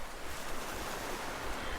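Soft ocean waves wash in a steady, continuous ambience with no distinct breaks, fairly quiet, and no voices.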